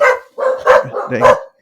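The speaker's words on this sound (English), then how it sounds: "So I apologize for my dogs in the background." Dogs barking indoors, a few loud close barks and yips in quick uneven bursts with short gaps between them, no speech over them.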